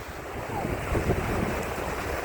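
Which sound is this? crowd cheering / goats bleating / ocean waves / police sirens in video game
ocean waves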